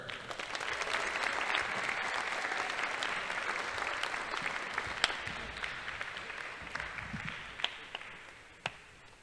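Sustained audience applause for four-year athletic letterman awardees of the class of 2023 at an awards ceremony, a steady dense wash of clapping with a few sharper individual claps near the end.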